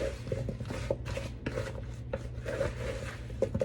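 Apple pie filling is stirred together in a bowl, giving a steady, close scraping and rubbing sound in repeated strokes that runs throughout, with no talking.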